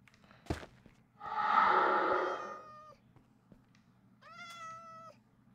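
Cats meow in a lab setting: a sharp knock, then one long loud drawn-out meow, followed after a pause by a shorter, higher meow, close and clear with no talk.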